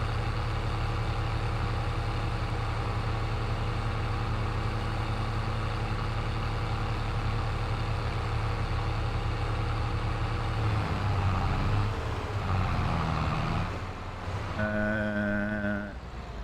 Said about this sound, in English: For a tractor with this much power, it does seem to suck a little bit.